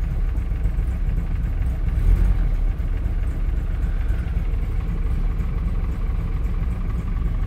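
An MG car with a 4-speed manual gearbox and 60,000 miles idles low and steady, with a sticking choke cable. The engine hum runs close and constant throughout, with no one talking over it.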